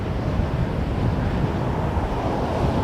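Wind blowing across the open ground at Toronto Pearson Airport, a steady broad rushing roar buffeting the microphone, continuous and fairly loud with no voices.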